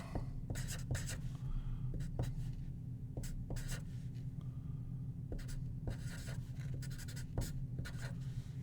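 Pen scratching across paper in short repeated strokes and taps, close and fairly quiet over a steady low hum, with no talking.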